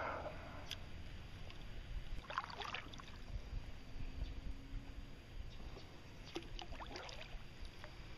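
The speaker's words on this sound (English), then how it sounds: "I'm going to paddle around this fence" Wooden paddle strokes dip and splash on a calm lake, a few soft watery swishes around 2–3 and 6–7 seconds over steady outdoor ambience, close and moderately quiet.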